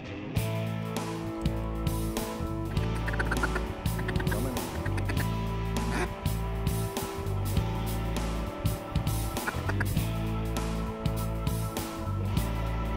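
A dense swarm of ducks and geese calls continuously during a Saskatchewan waterfowl hunt, honks and quacks overlapping into a loud, steady din with no break.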